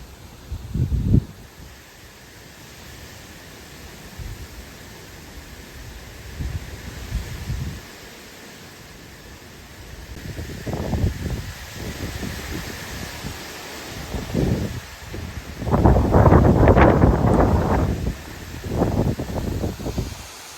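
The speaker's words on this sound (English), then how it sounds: "That's strong wind." Strong gusting wind during Hurricane Idalia, with rain, roaring in repeated loud bursts against the microphone, the strongest surge lasting a few seconds near the end, over a steady low rush.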